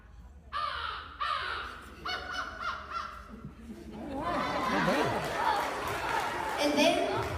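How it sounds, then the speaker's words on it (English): American crows caw loudly in a series of harsh, repeated calls, several close together, followed by a denser stretch of overlapping calls and background noise. "I'm going to do 2 species of crows. The American crow and the fish crow."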